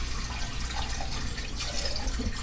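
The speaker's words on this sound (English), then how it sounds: "I'm going to fill up my container of water with some filtered water for you." A tap runs filtered water into a container, giving a steady, close rushing splash that stays even throughout with no talking.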